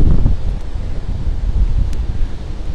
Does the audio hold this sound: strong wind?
yes